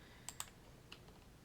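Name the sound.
computer keyboard keys pressed for Control C shortcut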